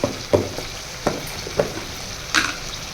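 Chicken curry with green chillies and homemade chilli powder sizzles in a pan, and a spoon stirs it in a few short scraping strokes over a faint, steady frying hiss.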